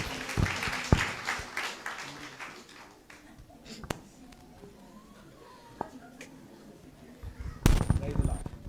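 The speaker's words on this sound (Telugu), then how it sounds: "గట్టిగా చప్పట్లు కొడదాం" A church congregation at a gathering claps loudly in short, uneven bursts near the start and again near the end, separated by a quieter stretch with sparse claps and some talking.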